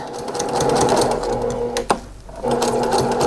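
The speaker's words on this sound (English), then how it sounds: "Go ahead and stitch this up" A sewing machine stitches a small tote bag made from 5-inch fabric squares, running in a loud, fast, steady whir close by. It stops briefly near the middle with a click, then starts stitching again.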